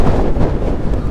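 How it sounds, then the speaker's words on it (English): Strong gusting wind buffets the microphone on the exposed edge of Black Hill, a loud, continuous low roar with no other sound. "it's so windy, it's not very safe"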